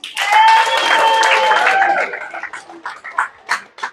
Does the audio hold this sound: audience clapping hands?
yes